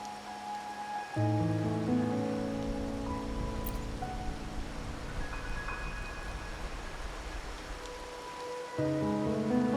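Steady rain falls in Raguna in the video game Wuthering Waves, a soft continuous hiss under a sustained musical tone throughout, with no one speaking.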